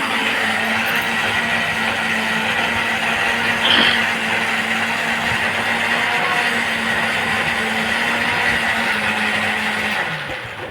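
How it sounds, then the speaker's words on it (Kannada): A kitchen mixer grinder runs loud and close in a steady continuous whir for about ten seconds, then winds down near the end, with no talking. "ಮಿಕ್ಸಿ ನೀನು ಹಾಕ್ಬೇಕಾ"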